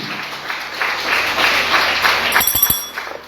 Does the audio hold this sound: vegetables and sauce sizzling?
no